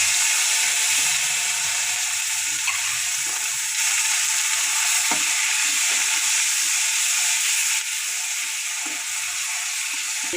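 White cumin and onion paste fry in oil for a spicy chanda fish dish, a loud, dense, continuous sizzle with faint crackles and occasional clicks close by.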